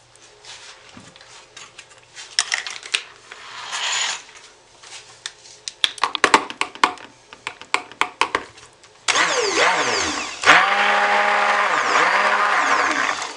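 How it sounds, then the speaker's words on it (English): Stick blender whirring through white soap batter with titanium dioxide, loud continuous motor hum in two bursts near the end, preceded by clattering, tapping and scraping of utensils and containers. "Now I'll stick blend the white"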